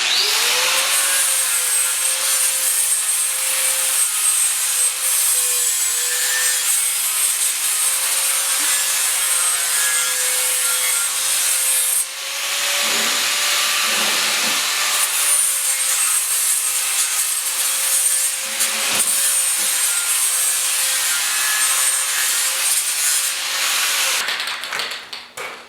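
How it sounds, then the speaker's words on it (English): A flap disc on an angle grinder smooths a sandblasted steel tire rim, a loud continuous whining grind with a steady motor tone, close up, briefly dipping around the middle and near the end before winding down. "we're just going to use our flapper disc here and just smooth it out a little bit."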